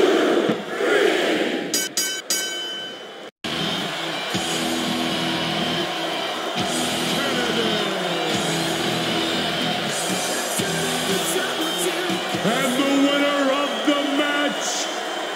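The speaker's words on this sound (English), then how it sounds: "This capacity crowd is making their opinions known tonight." A packed wrestling arena crowd in the game WWE SmackDown! vs RAW 2007 roars and cheers in a steady, loud wash after a brief abrupt cut near the start, with commentators talking over it.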